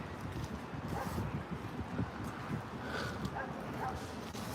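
Dogs bark and yip intermittently at a grassy dog park, fairly distant and mixed with steady wind buffeting the microphone, with a faint voice now and then.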